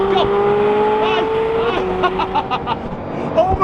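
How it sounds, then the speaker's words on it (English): Up close, a Ferrari 458 engine drones and rises, its pitch sweeping through gear changes, while excited voices shout and exclaim over it. "The 458 is a fast car!"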